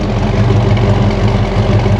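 Chevrolet Camaro Z28 muscle car idling through its dual exhaust, a steady, throaty low rumble that stays even and smooth throughout, close by with no talking.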